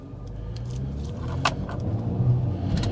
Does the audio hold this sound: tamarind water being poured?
no